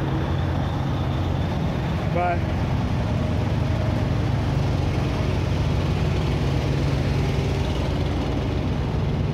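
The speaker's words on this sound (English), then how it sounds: "See, it's really loud up here because he's idling." A semi truck engine idles nearby with a constant loud low rumble and drone, and a short spoken word cuts in early.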